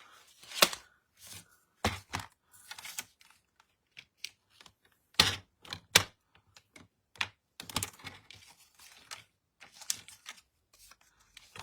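Cardboard is cut into small pieces for a display case, giving a series of short, sharp snips and taps in irregular bursts separated by quiet gaps, close by.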